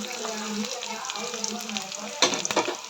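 Carrot pieces fry in hot oil with thinly sliced ingredients, a close, steady crackling sizzle with a brief burst of louder spitting and stirring near the end.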